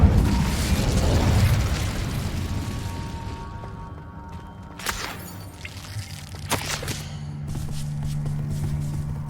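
A fire spell in Hogwarts Legacy erupts with a heavy, rumbling blast that dominates the first two seconds, then fades into a lower roar with scattered crackles and a couple of sharp pops later on.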